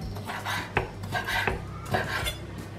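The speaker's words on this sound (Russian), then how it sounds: "Креветки режу средними кусочками." A knife cuts thawed, peeled shrimp into medium pieces on a board, giving a few crisp chopping knocks and scraping strokes, close and fairly quiet.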